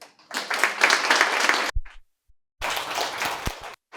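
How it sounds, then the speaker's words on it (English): Two bursts of audience applause at a talk on AI and energy, each loud and close, clapping for over a second before cutting to near silence with a stray tap or two. "So let's give her a round of applause."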